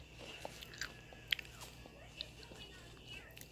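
Crunchy food is chewed close to the microphone, giving a few soft, scattered bites and crunches under a low voice.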